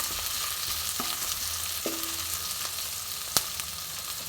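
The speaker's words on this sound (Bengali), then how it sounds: "এটাকে ভালো করে ভেজে নেবো" Onions frying in a pan give off a steady, close sizzle, broken by a few light clinks of a utensil stirring against the pan, with no talking.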